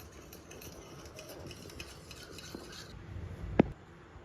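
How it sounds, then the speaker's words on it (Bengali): Flattened rice is mixed by hand with salt water, giving a steady soft wet stirring and rustling with a single sharp clink near the end, no voices. "লবণগুলা পানিটা দিয়ে একটু মাখিয়ে নেব"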